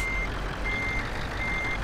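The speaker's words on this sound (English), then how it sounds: "we're just pulling in with our V8 Scania" An in-game V8 Scania truck in Euro Truck Simulator 2 rumbles steadily as it pulls in. A high reversing beeper sounds in intermittent tones over the constant low engine drone.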